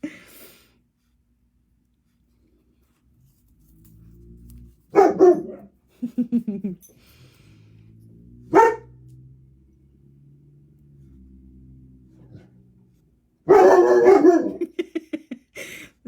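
Several dogs barking and howling at a mail carrier passing by, loud bursts of barking at intervals with a drawn-out howl between them, a person speaking briefly near the start.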